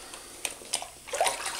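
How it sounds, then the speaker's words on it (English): A grout sponge is rinsed in a bucket of water during wall tile grouting in a shower, giving a few soft sloshes and splashy squeezes close by, heard alone. "rinse your sponge out as well as you can"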